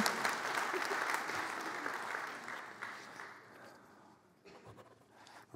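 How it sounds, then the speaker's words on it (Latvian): A crowd at a tech event gives lively applause after a memorandum on electricity and heating cooperation is signed, dense clapping that fades out and picks up again right at the end. "Paldies! Aplausi!"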